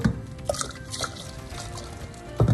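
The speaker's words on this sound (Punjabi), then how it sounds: "ਹੁਣ ਕੁੱਕਰ ਨੂੰ ਅਸੀਂ ਹਿਲਾਵਾਂਗੇ" Water, chicken and spices slosh and drip inside a pressure cooker as it is shaken, with a few wet splashes and a heavier slosh near the end.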